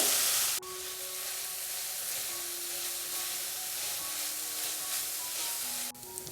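Sliced onions sautéing with a pinch of salt over a medium flame for a Kerala crab roast, a continuous soft sizzle and hiss with faint stirring, briefly cut at the start and end, no speech.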